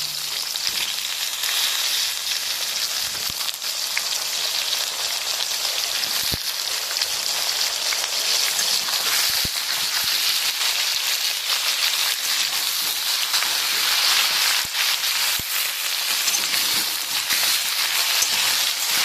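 Mixed vegetables for a Bengali bagan chorchori fry in hot oil, giving a continuous dense sizzle with occasional sharp pops and the scrape of stirring, close and steady throughout with no talk.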